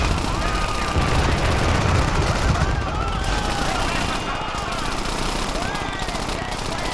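Rapid gunfire from the open-world action game Crackdown, dense and sustained throughout, loud and close, with a roaring, rumbling mix of shots and explosions under faint voices.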